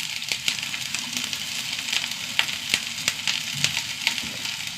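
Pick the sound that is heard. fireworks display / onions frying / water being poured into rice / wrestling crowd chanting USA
onions frying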